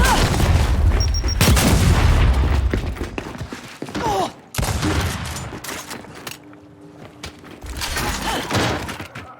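A frag grenade going off during a Team Deathmatch match in Gears 5 sets off a loud, booming blast near the start, followed by rattling bursts of gunfire and thuds that fade in and out.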